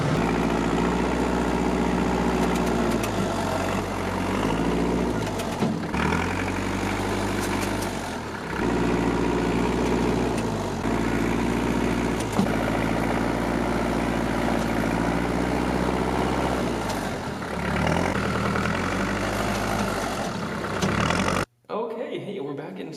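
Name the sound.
tractor engine running while moving snow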